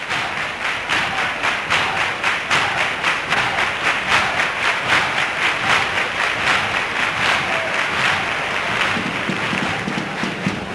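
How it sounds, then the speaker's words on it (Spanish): Sustained audience applause at a Cádiz carnival chirigota performance, dense steady clapping throughout with a rhythmic pulse, loud and close, no voices. "soporta los aplausos del público"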